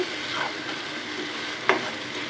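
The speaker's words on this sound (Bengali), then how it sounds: "মশলাটা ভালোভাবে কষিয়ে নেব" Spice paste for a meat curry sizzling and being stirred in a pan, a steady broadband frying hiss with a couple of brief scraping stir sounds, close and fairly quiet, no talking.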